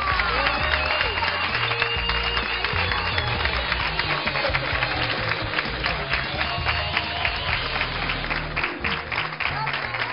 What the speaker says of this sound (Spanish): Te están aplaudiendo a ti.